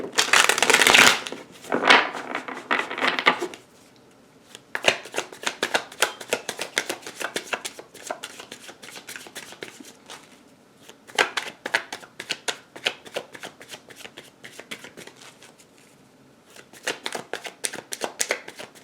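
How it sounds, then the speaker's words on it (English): Playing cards are shuffled in repeated bursts of crisp riffling and flicking, close up, with short pauses between rounds. "Let me get these cards nicely shuffled."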